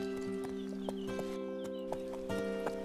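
Wild horses move with steady clip-clopping hoofbeats over a sustained tonal music bed, the hooves repeating at an even rhythm.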